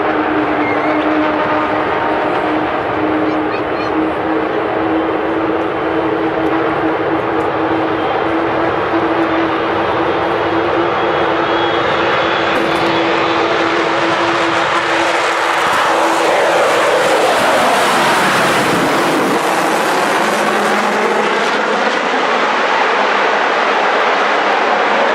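A large airliner rolls down the runway on its takeoff run at the Farnborough Air Show, a loud, steady jet engine roar with a high whine that swells and sweeps past near the end, heard alone without talk.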